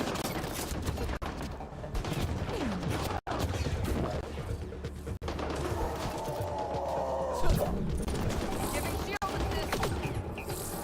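Gunfire in the sci-fi shooter Mass Effect: Andromeda, with constant shots and impacts through a busy, noisy firefight, under a mix of game sounds and voices.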